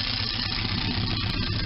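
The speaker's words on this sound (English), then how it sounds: "So I can shut the engine down" A Sunbeam Alpine car engine idles up close during a valve adjustment, a steady mid-pitched rumble with faint rattling and a continuous even drone, no voices.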